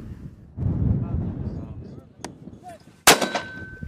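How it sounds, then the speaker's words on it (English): Two 60mm mortar rounds fire outdoors during training, each a sharp blast. The second is louder and is followed by a ringing tail, with wind rumbling across the microphone between them. "they fired both handheld and bipod mode at targets ranging between about 350 and 600 meters"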